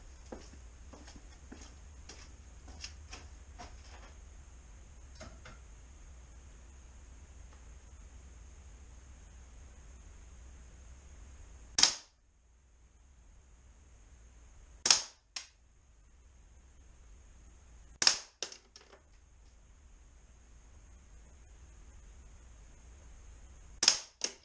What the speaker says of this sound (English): Going to get ready to shoot it with this little air pistol right here. It's a Luger replica.